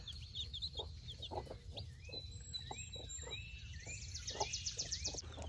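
Barnyard mix chicks and chickens cluck and peep in a farm setting, giving repeated short calls over a constant low background rumble, with higher chirps scattered throughout.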